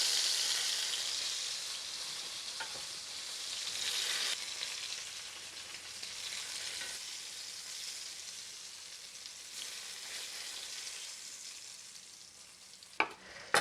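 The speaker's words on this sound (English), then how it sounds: "So let's add a little bit more of the vegetable oil. Bring it up to temperature, and let's add another batch." Eggplant frying in hot vegetable oil, a loud continuous close sizzle and hiss that swells and eases, with a couple of sharp clinks near the end and no talk.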